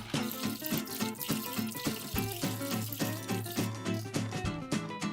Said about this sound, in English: Rinse all the parts once you're done.